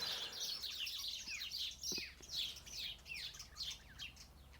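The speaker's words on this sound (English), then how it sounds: "Wow, all them birds right there." Several birds chirp and trill outdoors in quick, overlapping bursts, fairly faint and distant against a quiet background with no talking.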